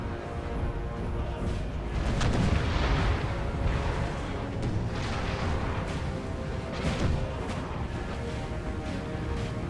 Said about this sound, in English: We've got a team of 4 8-pounders here, firing on the Russians near the town there.